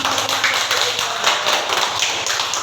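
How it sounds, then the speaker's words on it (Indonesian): Students in an Indonesian classroom clap together in a steady, rhythmic pattern of quick, close taps, fairly loud and continuous throughout. "Tepuk tangan."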